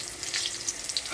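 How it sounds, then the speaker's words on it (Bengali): Cabbage pakoras with green peas fry in hot oil, giving a steady close hiss with scattered crackles and pops throughout. "তেলটা একটু হাইটে গরম করে নিতে হবে, তারপর পকোড়াগুলো আস্তে করে ছেড়ে দিতে হবে।"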